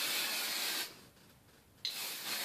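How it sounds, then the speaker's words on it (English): Hairspray is sprayed onto the top of styled hair in two short hissing bursts, the first longer, separated by a brief pause, close and clear with no talking. "I'm just going to spray the top a little bit here."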